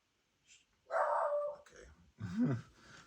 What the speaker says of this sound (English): No barking, Bruno.